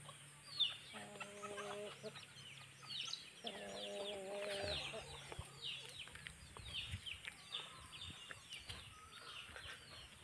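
Chickens on a Philippine farm, repeated nearby clucks and short calls from several birds, with rooster-like tonal calls early on and faint rustling between.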